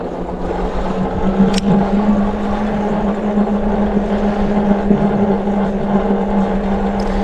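Steady rattling buzz from the vibrating rear footrest of a Yoto Lion cargo e-bike while riding, a continuous near hum and drone with faint outdoor wind, no talk.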